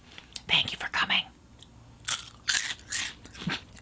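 Crunchy food being bitten and chewed up close, a series of sharp crackling crunches in two bursts separated by a short quiet gap.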